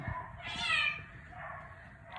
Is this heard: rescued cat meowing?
yes